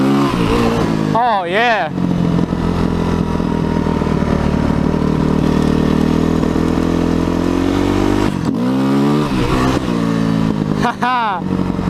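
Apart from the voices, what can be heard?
motorcycle revving while popping a wheelie on a frozen lake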